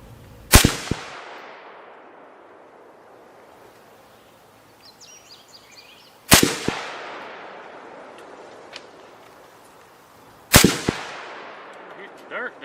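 An M1 Garand rifle fires three loud, sharp shots outdoors, spaced several seconds apart, each with a long echoing decay, and a faint metallic ping of the ejected clip follows the final shot.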